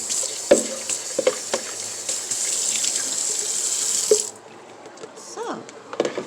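Extra liquid being drained from boiled food, a steady pour of water into a sink that stops abruptly, followed by quieter handling noises, with a person talking over it.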